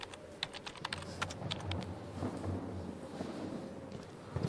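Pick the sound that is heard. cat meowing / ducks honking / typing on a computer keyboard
typing on a computer keyboard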